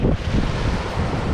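Wind buffets the microphone on a breezy beach walk at Clacton, making a steady, close, rushing roar with low rumbles and no voices.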